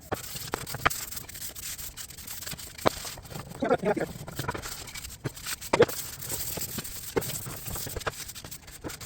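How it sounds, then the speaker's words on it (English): Soft, steady rubbing and scraping of a sanding sponge smoothing burrs on routed wood, close by, with a few light knocks. "I'm going to take the little sanding sponge, kind of clean up and make everything nice and smooth."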